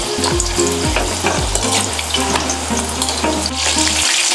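Chicken pieces for chilli chicken fry in hot oil, a loud, dense close sizzle with stirring clatter, cutting off abruptly at the end.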